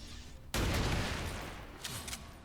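Gunfire aimed at a mech in XCOM 2, Long War 2: a sudden loud burst of shots erupts after a brief quiet, followed by a rolling, decaying crackle of rapid reports.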